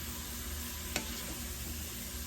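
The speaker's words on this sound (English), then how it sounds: "I'll probably put a little bit of broth in there" Vegetable broth poured into a hot pot sizzles in a steady, faint hiss with a brief sharp splash near the start, no voices.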